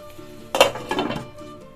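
A spoon scrapes and clinks against a cooking pot while dal tadka is stirred on a low gas flame, a short burst of metallic knocks and scraping in the middle of a quiet background.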